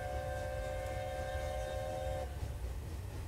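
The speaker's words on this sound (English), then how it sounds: "this is a narrow gauge steam railway" Welsh Highland narrow gauge steam railway train running, a steady close rumble and rattle of the carriages with sustained tonal whistle-like lines that fade after a couple of seconds.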